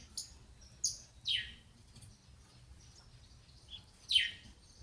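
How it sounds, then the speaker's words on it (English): Small birds chirp in short, high, sharp notes spaced irregularly across a quiet outdoor background, fairly close and clear. "These are beautiful small birds"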